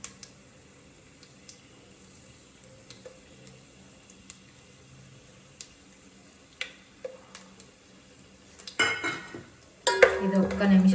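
Whole spices, bay leaf and cardamom frying in a pot while a hotel-style biryani is made at home, with faint light clinks and stirring through most of the clip, then louder bursts of sizzling and spattering near the end.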